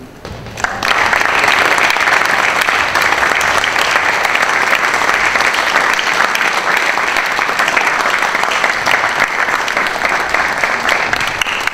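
An audience at a high school spring band concert applauds the seniors in a loud, dense, sustained burst that starts abruptly and holds steady for about eleven seconds, filling a hall.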